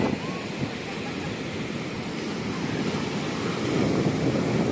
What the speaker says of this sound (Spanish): Bastante oleaje, más de lo habitual.